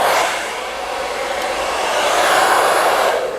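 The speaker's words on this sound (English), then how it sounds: "I'm gonna add the detachable vent on the blow dryer" A Wahl Pro 5 Star hair dryer fitted with a detachable vent blows a steady, close, loud airy whoosh that holds without a break for a few seconds.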